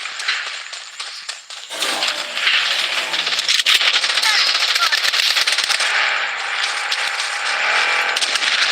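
Machine gun fire in the battle royale video game Blood Strike, rapid crackling bursts that run densely and loudly for most of the clip, building after a quieter opening.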